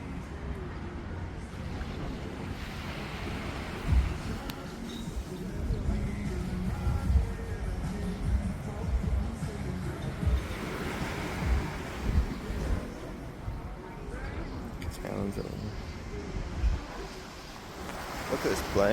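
Gentle surf washes onto a Cambodian beach, rising and falling in soft, continuous swells with some wind buffeting the microphone and occasional voices nearby.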